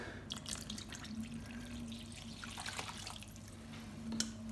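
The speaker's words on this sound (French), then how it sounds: "Et mon demi-litre d'eau tiède." Half a litre of lukewarm water pours into a bowl as a faint, continuous splashing trickle with small drips, under a low hum.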